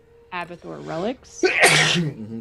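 A single loud, close sneeze bursts out right after a voiced intake, among people speaking during a tabletop Dungeons & Dragons game session.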